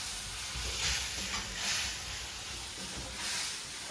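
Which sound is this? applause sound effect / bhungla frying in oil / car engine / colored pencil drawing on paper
bhungla frying in oil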